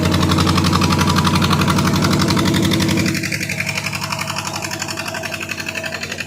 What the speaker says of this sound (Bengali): ওই যে বোটটা ছেড়ে বেরিয়ে যাচ্ছে